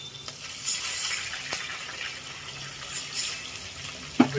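Water poured into hot oil tempered with popped mustard seeds, chillies and curry leaves for Gujarati khaman gives a steady frying sizzle with a sharp crackle near the end, close and fairly quiet.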